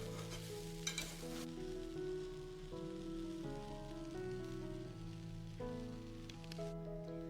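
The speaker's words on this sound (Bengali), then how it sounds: "চাল আর ডালগুলোকে মশলার সাথে একটু ভাজা হতে দেব" Rice and lentils with spices sizzling steadily in a pan for vegetarian Bengali khichuri, a continuous close frying hiss with occasional stirring scrapes and a faint tonal hum underneath.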